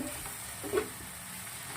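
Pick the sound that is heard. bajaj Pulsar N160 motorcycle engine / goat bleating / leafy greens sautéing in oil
leafy greens sautéing in oil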